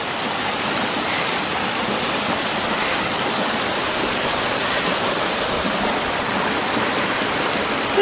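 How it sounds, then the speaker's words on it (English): A mountain stream near Scott Mountain Summit rushes steadily, a dense, even wash of flowing water, close and loud, with no voices over it. "And the streams are still flowing."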